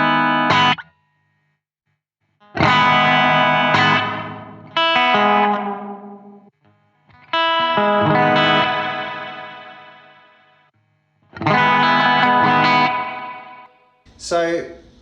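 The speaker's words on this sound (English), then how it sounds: "So some cool, unique, different delays." Guitar played through delay effects on a Hotone Ampero Mini pedal: loud distorted chords ring out in several separate bursts, each trailing into repeating echoes that decay, with short silences between phrases.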